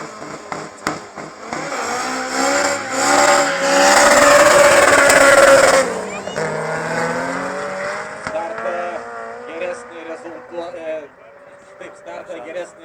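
A BMW 325 and an Opel Kadett GSI Turbo launch side by side at a drag racing event. Engines build to a loud roar and then fade off down the strip, while an announcer talks over them throughout.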